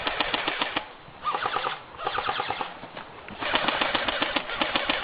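Airsoft guns fire during an outdoor airsoft war in Newington, Connecticut: dense, rapid bursts of sharp plastic-pellet shots with brief pauses between volleys, fairly close and without speech.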